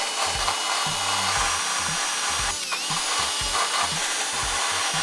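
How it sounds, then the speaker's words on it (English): Sanding on the body of a crashed BMW M5, heard up close as a rhythmic, rasping scrub of repeated strokes and steady abrasive hiss. "We're gonna give this a little sand down and get it nice and good."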